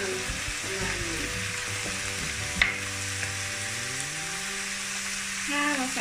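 Snow peas stir-fried in a pan, a constant dense sizzle with occasional scraping stirs and one sharp clank of a utensil, close and steady throughout.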